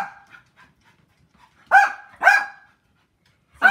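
A dog barks three times, loud and close, in short bursts about half a second apart, with soft panting or whimpering before the first bark and no talking.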